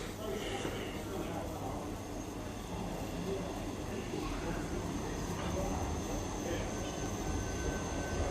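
A train passes through Westbury station on the Great Western main line, a steady broadband rumble of wheels and engine holding at constant loudness throughout, close by with no speech over it.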